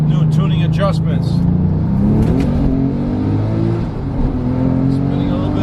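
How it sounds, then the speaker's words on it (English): A tuned 750 HP Porsche 997 Turbo revs hard on the road as its tires spin, the engine note climbing in steady rising sweeps, loud and close, with someone speaking over it. "Spinning a little bit of tires."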